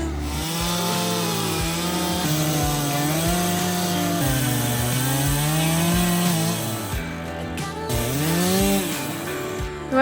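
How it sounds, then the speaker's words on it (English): A chainsaw with a ruined chain runs loud and close cutting a tree, its engine pitch rising and falling as it bites into wood, revving steadily throughout. "I just ruined my chainsaw chain."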